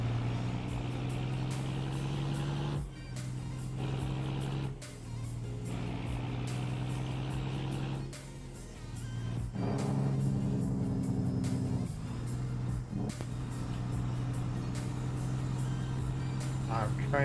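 An old truck engine under 500 horsepower in American Truck Simulator drones steadily at a low pitch, briefly dipping and rising, with people talking over it.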